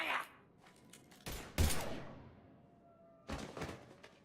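Gunfire in Mass Effect 3, a few sharp separate blasts with fading tails, fairly close, and quiet gaps between them.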